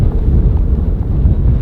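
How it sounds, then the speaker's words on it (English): Strong, bitter winter wind at Chilkoot Pass on the Haines Highway in British Columbia buffets the microphone in a continuous low, gusty roar, loud and close with no voices. "The wind right now is treacherous with a temperature of 15 degrees Fahrenheit."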